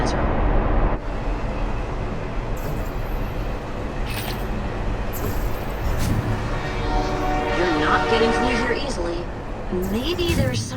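A train in the video game Budget Cuts 2 rumbles along steadily while its horn sounds in drawn-out tones, with voices talking throughout.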